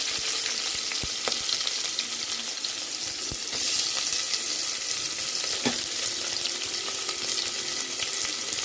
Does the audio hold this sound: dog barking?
no